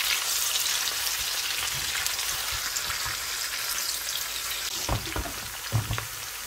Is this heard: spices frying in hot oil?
yes